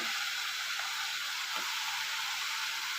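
Ginger garlic paste frying with chickpeas in a pan, a steady, loud, close sizzle and hiss that runs without a break, with no talk.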